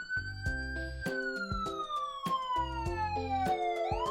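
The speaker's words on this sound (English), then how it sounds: "They all climb aboard the fire truck and turn on the sirens and lights." A fire truck siren wails in an animated picture-book reading, a loud cartoon-style tone sliding slowly downward over a bouncy musical backing, alone without speech.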